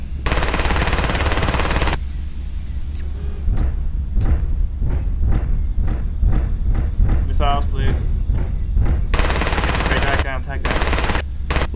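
Weapon fire in the MechWarrior Living Legends video game: rapid bursts of machine-gun style shots at the start and end, with sporadic single shots and a voice speaking in between.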